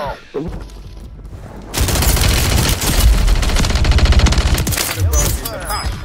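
Shotgun gunfire in Call of Duty Warzone on Rebirth Island, loud repeated blasts in a rapid, chaotic burst of close firing that fills most of the stretch, with a brief voice near the start.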